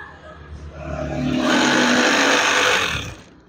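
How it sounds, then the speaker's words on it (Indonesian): A sewing machine runs while stitching a wide curtain, its motor whirring up to a loud, sustained buzz for about two seconds before slowing and trailing off. "Kemudian jahit lagi hingga akhir."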